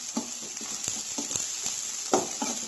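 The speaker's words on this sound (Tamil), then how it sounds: "இது கொஞ்சம் ஹையில் வச்சு ஃப்ரை பண்ணுங்கள், இல்லைனா அந்த கிறிஸ்பினஸ் இருக்காது உங்களுக்கு." Maggi noodles fry on high heat in a pan, with a steady sizzle broken by repeated sharp stirring clinks and scrapes, close up and with no voices.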